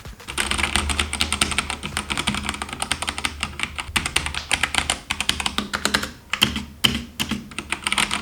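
Steady typing on a Tsunami MK-04 mechanical keyboard with red switches, a rapid stream of soft, muted key clicks close up, with no talking.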